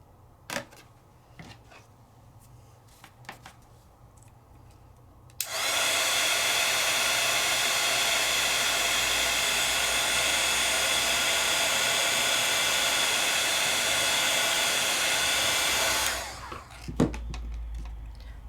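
A heat tool melts embossing powder for a paper craft, blowing a loud, steady whoosh of hot air for about ten seconds after quiet handling noises, then cutting off abruptly.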